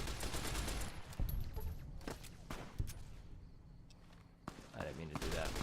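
Gunfire from the companion Boone in Fallout: New Vegas, as scattered sharp shots over a dense, noisy combat background with steady low rumble, moderately loud and continuous throughout the short stretch.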